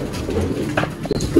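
Pigeons cooing inside a cage in a large pigeon cage setup, a low, throaty, rolling coo that carries on steadily and close by for the whole moment, with faint background rustle and no talking.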